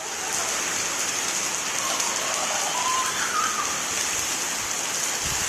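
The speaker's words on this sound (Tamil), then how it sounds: "நெய்வேலியில் 1 மணி நேரம் இடியுடன் கனமழை பெய்தது" Heavy rain pours steadily in Neyveli, a dense, even hiss of falling water on surfaces with no distinct thunder, continuous and fairly loud throughout.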